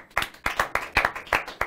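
Rhythmic clapping of a few hands, sharp regular claps at about three per second, close and clear, with faint voices underneath.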